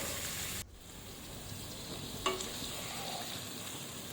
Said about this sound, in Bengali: পনিরগুলোকে এপিট ওপিট করে দুই পাশে কিন্তু ভালোভাবে ভাজতে হবে